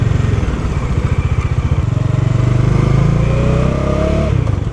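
A Bajaj Dominar 400 motorcycle being ridden through the city, its engine loud and close with a steady thumping throb that rises slightly in pitch as it accelerates.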